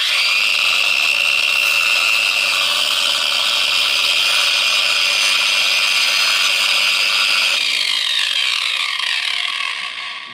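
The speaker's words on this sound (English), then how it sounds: "now we're going to grind this rivet off carefully" An angle grinder grinds steadily against a rivet on a motorcycle O-ring drive chain for a Honda Trail 125, giving a loud continuous metallic whir that tapers off near the end.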